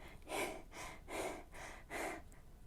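A voice imitates heavy panting, three or four rhythmic breathy gasps in steady succession, close and fairly quiet.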